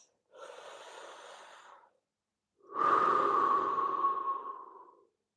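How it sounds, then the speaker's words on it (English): Two deep breaths taken during a leg stretch, a softer inhale followed after a pause by a longer, louder exhale, both close and alone in silence. "Take a nice deep breath."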